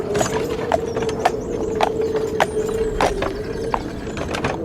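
Horse hooves clip-clop in a steady, evenly spaced rhythm of sharp knocks over a constant low rumble, the animal pulling a cart or carriage on a road in the countryside.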